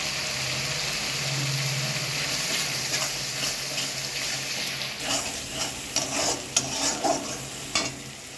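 Whisked yogurt and garam masala are stirred into a sizzling Bengali-style palak egg curry in the pan. A soft continuous frying hiss runs underneath, and clattering stirring scrapes come in bursts during the second half.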